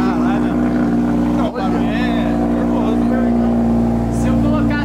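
An old Porsche engine runs loud and close in a steady, deep, throbbing rumble with a few rises in pitch, while people talk over it.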